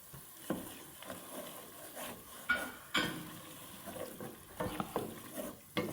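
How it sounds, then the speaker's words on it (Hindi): Tomatoes and garam masala frying in a pot, a low sizzle under repeated stirring scrapes and occasional metal knocks of the spoon against the pot. "थोड़ा सा भून लेंगे इसको।"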